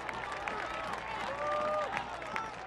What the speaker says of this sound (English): Josh Cohen receives a round of applause for his solid effort in goal.